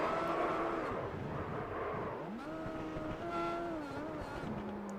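Race car engine in the iRacing sim revving and whining with sweeping pitch changes as the car spins and loops around at California; a continuous loud tone that rises and falls under crowd-like background noise.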